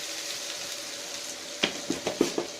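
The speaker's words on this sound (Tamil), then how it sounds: "நல்லா வதக்கிக்கலாம்." Onions, green chillies and garlic sauté in a pan for potato kurma, giving a steady soft sizzle, then several close scraping stirs with a spoon toward the end.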